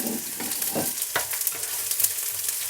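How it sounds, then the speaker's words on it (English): Sliced onion sizzling in hot spiced oil for a Bengali chicken curry, a close crackling fry with a few stirring scrapes and clicks. "Now I'll fry this sliced onion."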